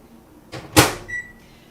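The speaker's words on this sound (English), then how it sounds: "Let me pop that in the microwave." A microwave oven being loaded with frozen canned pumpkin and started: a door clunk, a louder slam as it shuts, then a short run of electronic keypad beeps, all close and with no talking.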